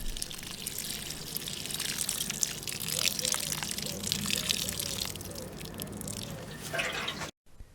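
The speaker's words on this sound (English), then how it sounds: "Finally, give the plant a good watering." Water is poured over a newly planted bergamot plant, a soft, continuous trickle with small dripping splashes, fairly quiet and close, ending abruptly.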